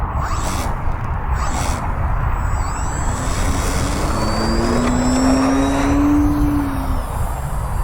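Engine of a 1.6 m Fieseler Fi 156 Storch radio-controlled model airplane on its first flight, a steady droning whine whose pitch slowly rises and falls as it passes at middle distance over constant outdoor wind noise.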